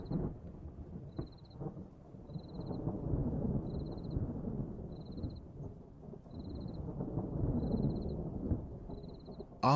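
Distant thunder rolls in long, low, continuous rumbles across the dry Kalahari at night, while a faint high chirp repeats at a steady rhythm about once a second.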